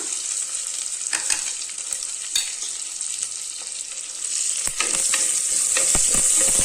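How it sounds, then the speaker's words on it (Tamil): Shallots and curry leaves sizzle steadily in hot frying oil, stirred with a few scraping clicks, the frying growing louder and denser toward the end with no talking. "நல்லா இந்த வெங்காயத்தை நல்லா வதக்கிக்கலாங்க"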